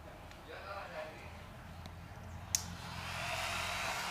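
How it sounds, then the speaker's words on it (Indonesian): Radiator cooling fan on a Suzuki FU 150 FI motorcycle switching on, a quiet steady whirring hiss that swells and holds after a click, with someone talking nearby. "sekarang ini kipasnya saya nyalakan."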